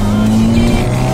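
A Seat León FR MK3 engine revs hard up close, a loud droning growl with a rising and falling pitch that lasts about a second.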